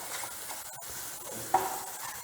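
Spices such as salt, coriander powder and turmeric are stirred in a frying pan with a faint, soft sizzle, brief scraping and one small clink of a spoon against the pan.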